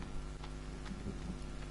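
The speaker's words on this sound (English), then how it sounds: "Oh great, it's raining." Rain falls in a forest, a soft steady patter with faint scattered drops, quiet and continuous across the short moment.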